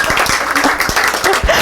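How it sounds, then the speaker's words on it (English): A church congregation at a Sunday service claps, brisk close-up handclaps bunched into a short, lively burst of applause. "Oh, you can clap."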